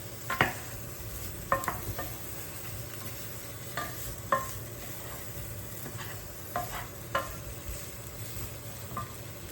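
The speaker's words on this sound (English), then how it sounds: "Stir fry until it's fragrant." Beef curry ingredients stir-fried in a pan, a steady low sizzle with intermittent scrapes and clinks of a utensil against the pan, fairly quiet and close.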